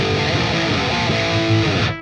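Distorted electric guitar played through a Neural DSP Fortin Nameless Suite X amp plugin, a dense, loud saturated tone sustaining steadily for about two seconds before cutting off.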